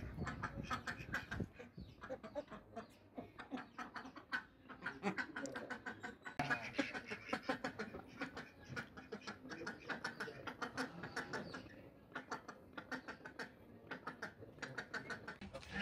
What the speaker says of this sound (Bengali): দেশীয় হাঁসও এখানে আছে, হিউজ পরিমাণের রাজহাঁস।